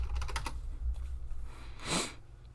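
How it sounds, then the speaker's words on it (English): A short burst of rapid clicks on a computer keyboard entering a random password, followed by a faint puff of breath, close and quiet. "So we'll just type in something random."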